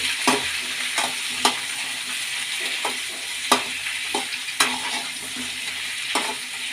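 A tomato mixture cooking in a pan is stirred with a spoon, a run of soft scraping strokes over a constant close sizzle, each stroke a short bright swish.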